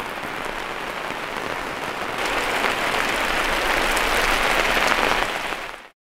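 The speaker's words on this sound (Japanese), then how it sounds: "突然 雨が降ってきました" Sudden rain pours down at a riverside auto campsite in Hyogo, a dense steady hiss of drops that swells louder partway through and then cuts off, with no talk over it.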